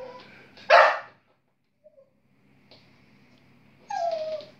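Dogs bark sharply up close, a loud single bark followed by quiet gaps and soft whimpers, then another whining yelp near the end.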